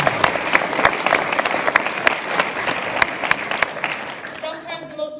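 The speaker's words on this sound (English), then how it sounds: "So let's give them a round of applause." A choir concert audience gives a round of applause. Dense clapping fills a hall and fades out near the end as a voice starts to speak.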